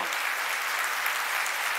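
Audience at an agricultural meeting giving steady, even applause, a dense continuous clapping from a roomful of people with no voices.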